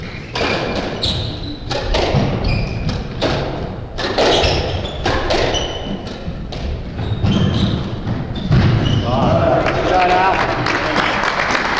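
Squash ball thuds and wall hits during a men's 30+ doubles rally at the 1998 World Squash Doubles, irregular sharp knocks and squeaking footwork under a commentator talking, with crowd noise near the end.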